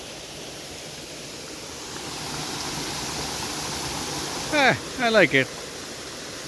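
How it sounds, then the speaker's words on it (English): The El Kabayo mountain spring waterfall pours as a steady, broad rushing wash in the background, and a voice speaks briefly near the end. "That's the waterfalls itself."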